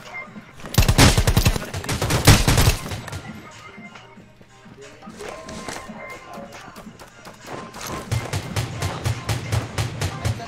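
Gunfire in the battle royale game ROS: a dense burst of rapid automatic shots, then quieter scattered shots, and another rapid string of fire at the end, with a player talking over parts of it.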